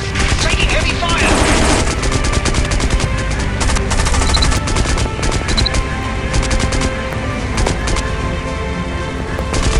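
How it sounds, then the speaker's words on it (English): Rapid machine-gun fire in a flight video game rattles loudly in continuous bursts, with dense crackling volleys layered over a steady aircraft engine drone. "Taking heavy fire."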